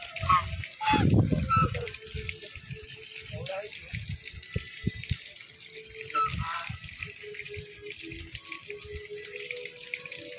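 Ducks and geese honk and quack near water at a temple visit, a loud burst of honking early on followed by scattered calls, with people talking throughout.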